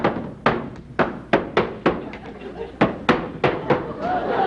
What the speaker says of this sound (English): I was hitting the drum here